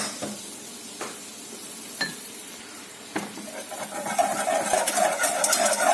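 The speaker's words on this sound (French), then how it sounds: "Alors là, on se fond notre beurre demi-sel." Salted butter melting in a saucepan over low heat, starting quiet with a few clinks of a utensil against the pan, then a steadily growing crackle and fizz.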